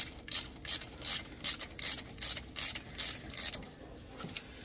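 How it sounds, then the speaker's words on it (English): A hand ratchet tightens the axle nut on a van's wheel hub, giving nine or ten evenly spaced bursts of raspy clicking, close and clear with no talk. "Tighten that axle nut down."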